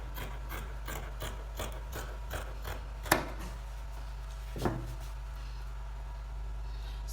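Scissors cut out a fabric pattern for a bubu dress with a steady run of rhythmic rasping snips, close and fairly quiet over a constant low hum, with a couple of sharper clicks.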